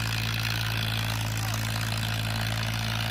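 A Farmtrac 45 Smart tractor engine runs at full throttle climbing a wet, rain-soaked uphill track, a loud, steady low diesel drone with a strong constant hum and no pauses, close up.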